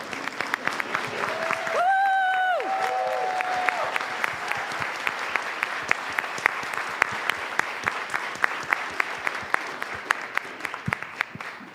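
Applause fills a room at a nonprofit membership meeting as an audience honors standing nonprofit CEOs, a steady crackle of many hands throughout with a brief tonal chime or whistle early on.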